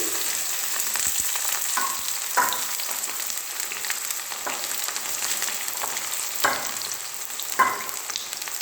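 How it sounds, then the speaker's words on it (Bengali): Chopped onions and home-grown bay leaves fry in oil in a kadai, giving a steady close sizzle with occasional louder scrapes and stirs, and no talking. "দেখো পেঁয়াজগুলো ফ্রাই করছি"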